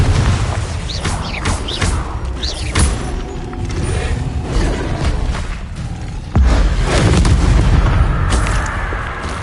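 Confringo blasting spells explode again and again in the game Hogwarts Legacy, giving loud, booming bursts with dense crackling debris in a steady barrage, and a heavier blast lands near the end.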